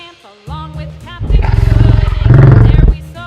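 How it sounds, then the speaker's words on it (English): An American bison gives a deep, rumbling, pulsing bellow lasting under two seconds, loud and close, preceded by a brief bit of tonal sound. "American bison,"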